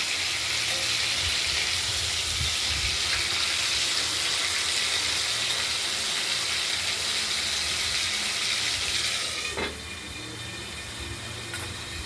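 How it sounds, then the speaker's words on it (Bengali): Steady, dense sizzling of prawns frying in oil, continuous and close, easing slightly near the end. "চিংড়ি মাছগুলো ভাজা হচ্ছে"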